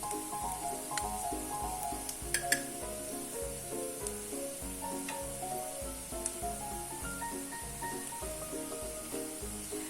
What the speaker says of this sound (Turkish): Şimdi içine 1 yemek kaşığı dolusu salça ilave ediyorum.